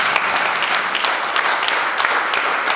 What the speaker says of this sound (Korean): 한번 그 찬동한 박수 한번 쳐주세요.